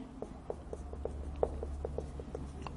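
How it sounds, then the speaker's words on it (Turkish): Chalk or marker writing on a classroom board, a steady series of soft, evenly spaced taps and strokes over a low room hum, with no talk. "Yazıyorum teker teker."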